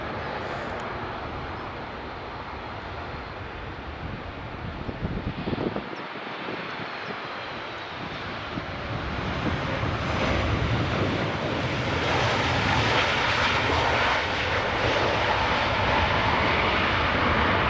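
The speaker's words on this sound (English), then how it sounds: "we've got a 7378 or 737 Max even just coming in, folks" A Boeing 737 Max airliner comes in to land at Edinburgh Airport as a steady, broad engine roar mixed with wind rumble, swelling louder toward the end.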